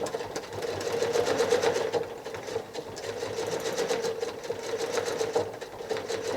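A sewing machine doing free-motion quilting runs continuously through small spaces of a quilt, a fast, even, rattling needle hum close up and alone with no voices.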